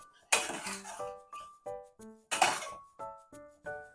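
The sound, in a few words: pressure cooker lid being unlocked and removed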